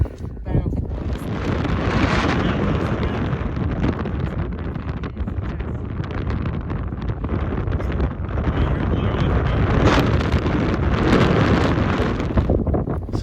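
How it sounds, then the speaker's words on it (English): Strong wind gusts buffet the microphone on a hike near Fagradalsfjall volcano, Iceland, in a loud, continuous roar that surges, with a voice faintly underneath. "there are a lot of wind gusts"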